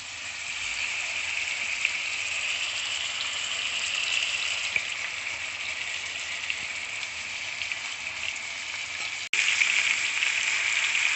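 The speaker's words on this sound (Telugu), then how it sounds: "ఇప్పుడు నూనె వేడి కాగానే చికెన్ లెగ్ పీసులు అందులో" Chicken leg pieces fry in hot oil in a pan, giving a constant, close, even sizzle that holds for about eleven seconds, with a brief dip and a slightly louder burst near the end and no talking.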